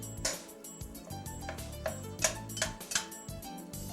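Ground meat browning on high heat in a pot, soft irregular clinks and scrapes of a utensil breaking it apart over a quiet background sizzle.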